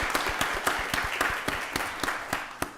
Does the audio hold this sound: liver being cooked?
no